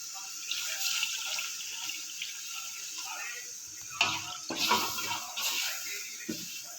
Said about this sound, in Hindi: पानी शामिल करना है।